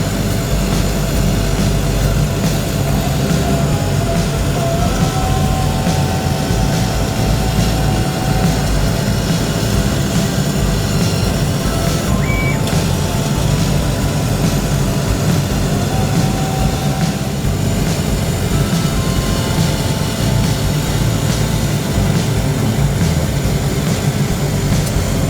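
Laser cutting machine at a workshop, running as a loud, continuous industrial hum and roar with faint tonal whines layered on top, steady throughout without breaks.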